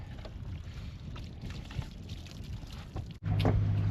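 A 2003 Amel Super Maramu 2000 sailboat under full genoa, moving slowly at under three knots, with steady water wash and wind noise against the hull throughout and a brief dip near the end.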